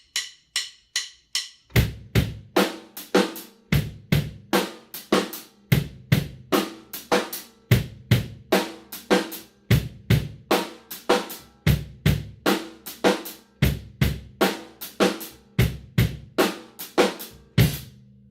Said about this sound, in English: I'll be playing straight 1/8 notes on the hi-hats with my right hand.